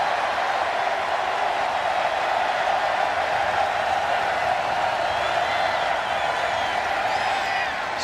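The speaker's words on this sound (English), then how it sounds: "Crowd comes alive on 3rd and 9." A college football stadium crowd at Kentucky versus Chattanooga roars on third and nine, a dense, steady wall of cheering that holds at full volume throughout without letting up.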